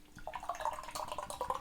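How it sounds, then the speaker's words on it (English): IPA beer is poured from a bottle into a glass, a faint, close gurgling trickle with small dripping splashes, quiet and without talk. "try and pour a little bit more of this out"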